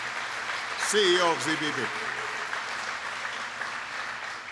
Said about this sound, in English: Please give Eric Apfelbach a big round of applause